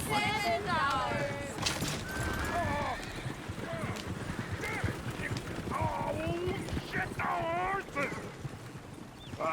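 Hooves of a horse-drawn coach clip-clop steadily in a Red Dead Redemption 2 town, mixed with occasional whinnies and horse snorts, while people talk over the street bustle throughout.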